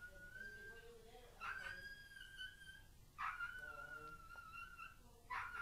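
An excited pet dog whimpers and yips in short, high, whiny bursts, three or four rising cries spaced a second or two apart, fairly close and not loud.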